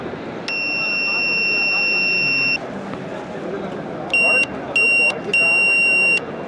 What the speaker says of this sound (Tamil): அதோட பஸர் சவுண்டு அலாரம் மாதிரியான ஒரு சவுண்டு விஷயம் அதையுமே இதில் வந்து கொடுத்துருக்காங்க.